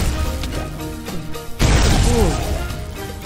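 A loud explosion bursts in a Minecraft game with a BoBoiBoy mod, a sudden broadband blast that follows game sounds and lingers as a heavy rumble; a voice talks over it.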